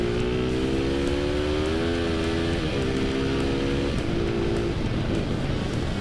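A CB Tiger motorcycle fitted with an MX 300cc block engine roars loudly up through the gears, its pitch climbing and then dropping at each shift, with strong wind rush throughout.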